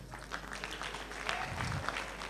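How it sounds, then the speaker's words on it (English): Audience applause at a fashion show, a soft, scattered patter of clapping heard from a distance at low volume, continuing steadily throughout the short stretch. "And they deserve a round of applause."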